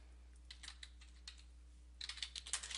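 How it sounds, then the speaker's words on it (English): Keys on a computer keyboard tapped while filling in a notes field, in two short bursts of quick, light clicks, close and fairly quiet over a steady low hum, with no speech. "If you open it, you can type general notes"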